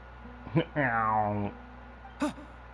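A small cat in Genshin Impact gives a drawn-out, tonal meow, preceded by a brief chirp and followed by a short second call, soft and slightly distant over quiet game ambience.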